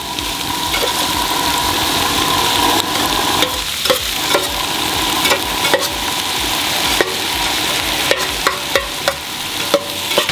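Shrimp and potatoes sautéing in a pan, stirred with a utensil that scrapes and knocks the metal now and then over a loud, continuous sizzle, close by and with no voices.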